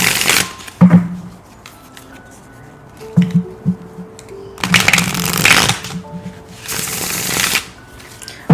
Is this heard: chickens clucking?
no